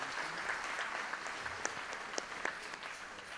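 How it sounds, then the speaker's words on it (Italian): An audience in an Italian theatre hall applauds in a steady, moderately distant wash of clapping, with a few sharper individual claps popping out. "vi chiedo un applauso augurale per Pippo Bucca"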